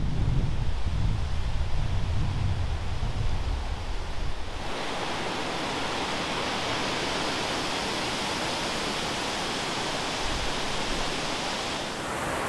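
A waterfall about 800 metres from a car park, heard as steady, broad rushing water close by that fills the whole clip evenly, with a slightly heavier low rumble in the first few seconds and no voices.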